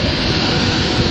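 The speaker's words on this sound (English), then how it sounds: "I thought I'll wait till this train departs before I carry on." A departing train at a British railway station gives off a loud, steady rumbling roar that fills the short stretch without pause.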